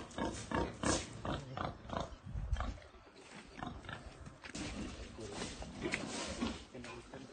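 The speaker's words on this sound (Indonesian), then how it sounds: "Ini mau kita cek babi ini." Pigs on an integrated farm, with grunts and oinks recurring throughout at close range, mixed with people talking nearby.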